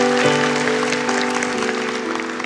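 Steady applause from a church congregation fills the space, continuous and even, with a sustained musical tone underneath.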